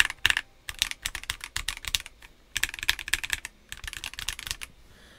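Stock CIY GAS67 mechanical keyboard typed on in quick bursts of crisp, close keystrokes, with short pauses between runs and no voices.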